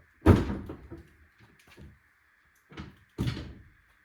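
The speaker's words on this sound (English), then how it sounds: "And now we'll open the tailgate." Tailgate of the cargo box on a 2024 Polaris Ranger XP 1000 Northstar Ultimate UTV being opened: a sharp latch clunk followed by rattling, then two more firm knocks close by, with a faint steady hum in the background.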